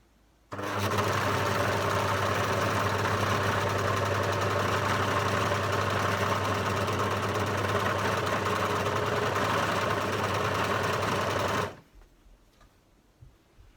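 A sewing machine stitches two pieces of fabric together, starting abruptly and running at a steady, even whirring hum for about eleven seconds before stopping sharply, close and alone.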